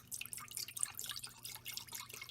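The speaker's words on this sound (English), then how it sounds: "pour in 6 cups of chicken broth" Chicken broth poured into a cooking pot, six cups in all: a steady, faint splashing and trickling stream that runs the whole time with no voices.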